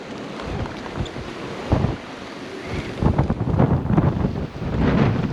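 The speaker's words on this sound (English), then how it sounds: "The waves are crashing up there." Wind buffets the microphone in a steady roar on the southern Norwegian coast, with rain, while waves crash and surge nearby, swelling louder in bursts toward the end.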